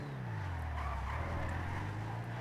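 A lowrider car engine in GTA 5 hums steadily and then rises in pitch as it revs, with a faint tire-squeal quality, continuous and fairly close.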